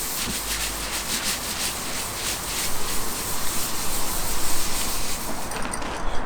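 Abrasive rubbing down of a vehicle's body panel by hand before camouflage painting, a steady broadband scratching hiss that grows louder and more vigorous in the second half, with no talking.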